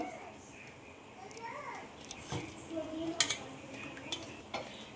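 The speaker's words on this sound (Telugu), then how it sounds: "ఈ మిక్సీ పట్టుకున్న మసాలా మొత్తం చింతపండు గుజ్జులో అయితే కలిపేసుకుందాం." A spoon stirs ground masala into tamarind pulp in a metal vessel, giving soft scraping and a few sharp clinks against the pot, with faint voices in the background.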